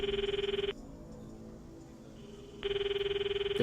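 A phone rings in the visual novel Steins;Gate 0: two bursts of a steady electronic ringtone with a pulsing warble, separated by a quieter gap of low background music.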